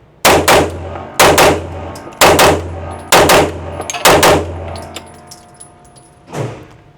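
Pistol fire from a Sig Sauer P211 or Kimber 2K11 Comp: loud, close shots in rapid double taps, about five bursts at roughly one-second intervals, followed by a fainter single thump.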